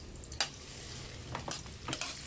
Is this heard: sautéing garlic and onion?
yes